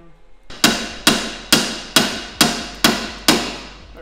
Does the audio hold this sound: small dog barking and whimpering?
no